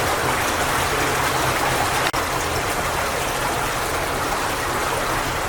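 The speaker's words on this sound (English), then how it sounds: "the river, it's sort of made up as a series of natural rock waterfalls and deep pools" Water of an underground river pouring over a series of natural rock waterfalls into deep pools, a steady broadband rushing roar that fills the space, continuous and close, with no voices.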